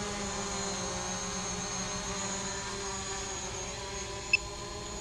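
Small camera drone taking off outdoors, its propellers giving a steady high-pitched whine that holds constant throughout, with one brief faint beep near the end.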